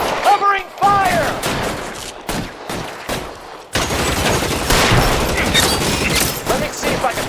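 Video-game gunfire from L.A. Noire Remastered: dense, rapid volleys of shots crackle continuously in a shootout, with voices shouting over the battle.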